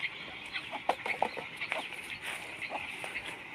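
Chickens cluck in a rural Thai farmyard near sugarcane leaves and a vehicle, giving a string of short, moderately distant calls over a steady background hiss.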